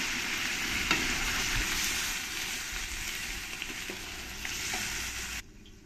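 Bottle gourd cooking in a pan sizzles and fries steadily with water added, a bright hiss with a few stirring knocks, cutting off abruptly near the end.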